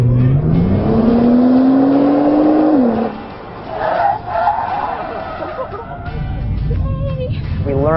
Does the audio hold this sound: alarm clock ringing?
no